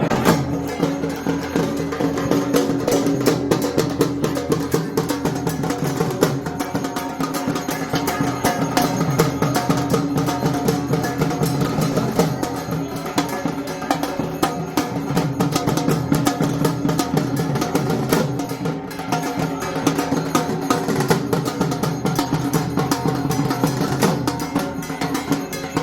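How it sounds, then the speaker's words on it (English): Dhak drums beaten during the Durga Puja festival in Kolkata: a dense, continuous rolling drum texture that stays loud and busy throughout, with no speech. "the sound is from a thak, a special kind of drum"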